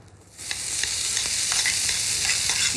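Lightly greased potatoes hit a teppanyaki grill and burst into a loud, steady sizzle after a quiet start, with scattered crackles and spatula scrapes, no voices.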